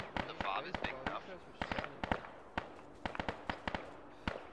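Emplacement guns fire in the ArmA 3 video game, a rapid scatter of sharp distant booms and cracks in irregular bursts while people talk over them.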